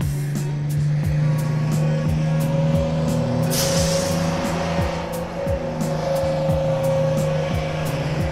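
A bus drives along with a steady engine hum and regular rhythmic thumps, moderately loud and close, with a brief hiss of air midway.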